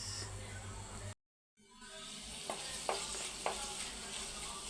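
Oil sizzles steadily in a pan while mint rice (pudina rice) cooks. After a brief gap the frying hiss returns, with a few sharp clinks of stirring.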